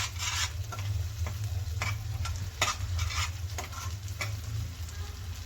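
Egg masala gravy fries and sizzles in a pan while a spoon stirs it in irregular scraping strokes over a constant crackle, with one brief spoken word.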